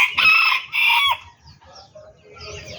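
Bantam chickens clucking loudly nearby in two strong bursts, followed by fainter scattered bird calls and low background noise.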